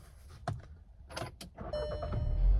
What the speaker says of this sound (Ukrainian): Запускається автомобіль